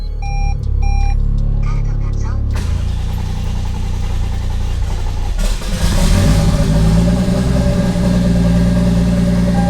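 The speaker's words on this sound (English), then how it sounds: "the exhaust is not on, so it's a little louder than usual" A manual-swapped Toyota Soarer runs with its exhaust removed, the engine cranking and catching into a loud, rough idle with brief revs, close to the microphone, preceded by a few electronic chimes.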